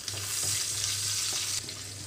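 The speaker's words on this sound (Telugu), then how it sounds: "తాలింపు గింజలు కొంచెం వేగిన వెంటనే కొంచెం నలకొట్టు పెట్టుకున్న వెల్లుల్లి రెమ్మలు కూడా వేస్తున్నాను." Tempering seeds and crushed garlic sizzle steadily in hot oil in a pan, a bright continuous frying hiss with no talking, briefly dipping near the end.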